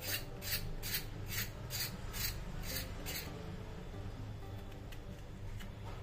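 A knife cuts pointed gourds (potol) in a run of about eight evenly spaced, rasping strokes close by, then the strokes turn faint and sparse over a steady low background hum.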